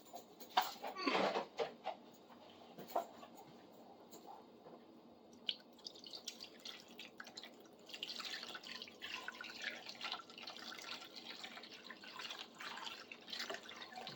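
Water dripping and trickling onto a clamp vise coated with baking soda during restoration, a few sharp drips early on, then a steady close wet patter and fizzing trickle that continues to the end.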